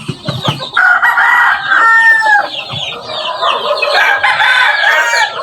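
A gamefowl rooster crows loudly and close by in a backyard breeding pen, one long crow followed by clucking from other fowl, with no talk.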